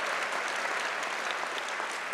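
An audience at the Netroots Nation 2017 event breaks into continuous applause, a thick, even wash of clapping from a large crowd with no speech over it.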